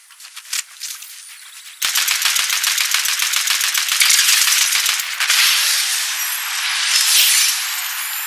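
Rapid automatic gunfire from a video game shown on a 165Hz gaming monitor, a dense rattling burst that runs almost continuously after a brief quieter opening, loud and close.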